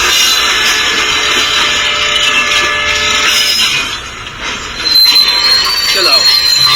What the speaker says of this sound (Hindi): देखा ट्रेन आ गई